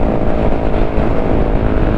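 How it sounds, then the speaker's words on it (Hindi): Motorcycle fitted with a loud SC Project exhaust, alongside an R15 V3, drones steadily with a dense, raspy roar, close and continuous throughout without speech. "लाउड तो बहुत अलग ही साउंड कर रही है ये।"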